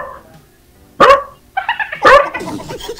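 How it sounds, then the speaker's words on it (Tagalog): A dog barks twice at close range, each loud bark sharp and short, with lighter yips and whimpering sounds between and after them. "Hindi maingay pa ang aso dito."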